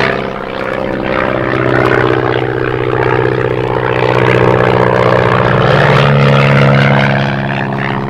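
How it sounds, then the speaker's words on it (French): A propeller-driven advertising plane drones overhead in a remote spot, its loud, steady engine hum holding through the whole stretch and swelling slightly as it passes close. "Un avion publicitaire? Dans ce coin perdu?"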